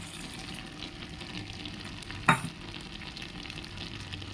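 Bottle gourd greens fry in a pan with crushed fried lentil dumplings, a steady low sizzle with one sharp scrape of stirring near the middle.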